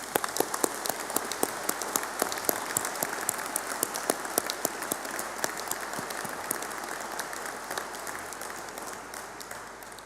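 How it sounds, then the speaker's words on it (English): A graduation audience applauds at a continuing and professional education ceremony, a dense, sustained wash of many hands clapping that fills the room evenly from start to finish. "if we could give them a round of applause, please."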